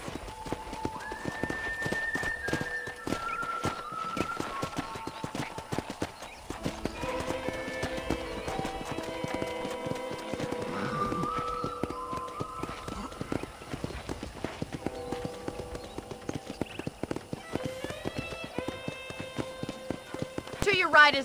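Hooves of a horse on a ranch in the Red Dead Redemption video game clip-clop in a steady walking rhythm under spoken dialogue and a musical score, with an occasional whinny.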